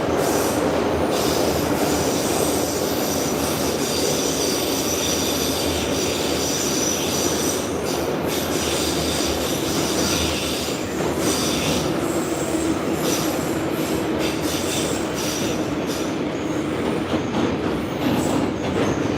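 A St Petersburg metro train on the Orange Line, Line 4, runs through underground tunnels with a loud continuous roar, rattling wheels and high squealing from the rails, heard from inside the carriage.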